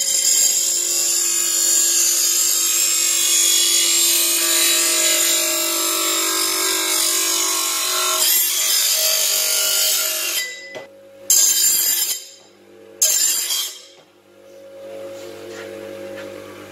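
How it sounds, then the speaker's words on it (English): An old grinder sharpening an old garden hoe makes a loud, steady, high whine for about ten seconds, then stops and starts in short bursts before winding down. "Let's get the old grinder going. Do a bit of grinding here."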